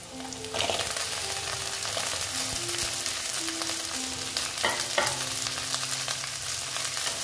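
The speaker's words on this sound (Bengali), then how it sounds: "পেঁয়াজটা এইরকম ভাজা হচ্ছে।" Onion and spring onion greens sizzle and crackle steadily in hot oil for Bengali cooking, with scraping stir strokes and clinks of a spatula against the pan, close and continuous with no talk.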